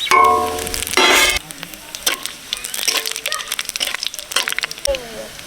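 Dried red chillies, bay leaf and Bengali five-spice tempering hitting hot mustard oil, a loud burst of sizzling crackle that quickly settles into steady frying with scattered pops and stirring clatter.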